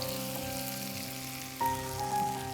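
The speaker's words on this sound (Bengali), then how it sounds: "দিয়ে দিচ্ছি রসুন বাটা 1 চা চামচ পরিমাণ, আর একটু সটে করে নিব।" Onion rings and garlic paste sautéing in a pan, a soft steady sizzle with light crackles under faint music, fairly quiet and close.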